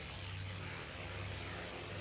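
Droning propeller engines of Val dive bombers in the IL-2 Sturmovik 1946 flight game, a steady loud hum with a low throbbing tone and no talk.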